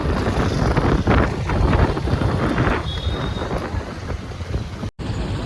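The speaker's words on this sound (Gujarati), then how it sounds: "વરસાદ થઈ ગયો ચાલુ." Rain beginning to fall outdoors with gusting wind buffeting the microphone, a steady broadband wash that holds throughout with a brief dropout near the end.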